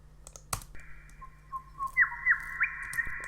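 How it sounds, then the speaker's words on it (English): Synthesized bird sounds from a music synth play as a sustained whistling tone with chirping upward squawks layered over it, following a sharp click, all fairly quiet. "Bird sounds."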